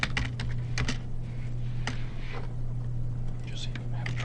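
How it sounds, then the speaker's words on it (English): Computer keyboard typing, with quick clusters of key clicks in an irregular rhythm over a steady low hum, close and moderately loud, while a voice talks faintly. "Just have trouble typing here."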